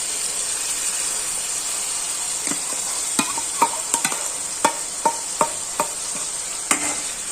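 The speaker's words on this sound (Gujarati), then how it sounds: "આ રીતના થોડી સતળાઈ જાય પછી આપણે તેની અંદર ટમેટા, આદુ, મરચાં, લસણ અને કોથમીરની જે પેસ્ટ તૈયાર કરી હતી તે એડ કરી દેશું" Onions fry in oil with a tomato, ginger, chili, garlic and coriander paste, giving a steady bright sizzle throughout, while a spoon stirs with scattered light scraping taps in the second half.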